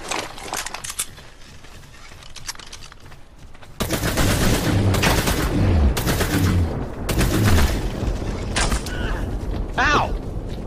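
Gunshots in the survival video game Ark: several loud bursts of firing and clanking mechanical sounds come in a cluster after a quieter, creaky stretch, with players' voices talking over them.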